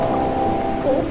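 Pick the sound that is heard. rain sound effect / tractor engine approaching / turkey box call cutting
rain sound effect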